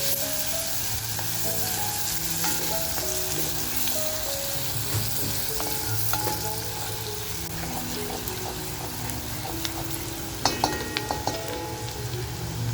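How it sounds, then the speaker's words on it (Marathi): Chopped onion and coriander frying in hot oil for a mutton masala, giving a steady, continuous sizzle close by with occasional light scraping from stirring and no talking. "कांद्याबरोबर आहे ना थोडीशी आपण कोथिंबीर सुद्धा टाकूया आणि मस्त असं फ्राय करून घेऊया."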